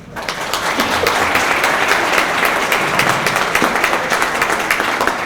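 An audience at a panel session on personal data protection in justice and public security applauds steadily for about five seconds. The clapping is dense, loud and even throughout.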